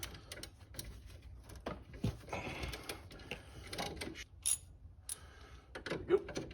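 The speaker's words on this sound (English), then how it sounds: "Let's go ahead and loosen this." A socket wrench loosens a bolt on a fourth-generation Chevrolet Camaro, giving irregular metallic clicks and ratcheting ticks with a few sharper knocks, close and fairly quiet.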